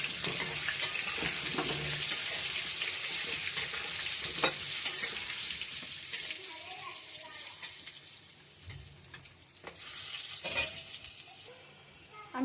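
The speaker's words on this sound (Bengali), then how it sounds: "আমি আলুটা লাল করে ভেজে তুলে নিয়েছি।" Potatoes fry with turmeric in hot oil for a mutton curry, a close crackling sizzle broken by stirring clatters that fades partway through and then swells again near the end.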